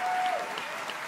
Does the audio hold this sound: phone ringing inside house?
no